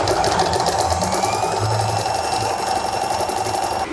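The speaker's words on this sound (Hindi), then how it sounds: "उसके बाद आपने 1 पाँव के गैप से एक सिलाई लगानी शुरू करनी है।" A sewing machine runs steadily while stitching frock fabric with a long stitch, a loud, close, continuous rapid mechanical whir and tick with no pauses.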